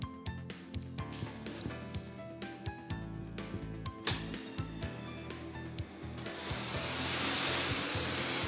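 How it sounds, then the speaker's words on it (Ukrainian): A lottery ball machine running for the Megalot draw, with balls clattering and knocking in quick irregular bursts, then an air blower rising into a steady rushing hiss near the end. "Вмикаємо лототрон."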